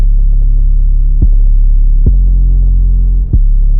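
Deep sustained 808 and synth bass from an FL Studio beat, a heavy low throbbing hum that pulses steadily, with a few soft transient hits spaced through it and no voices.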